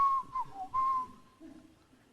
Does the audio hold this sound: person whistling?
yes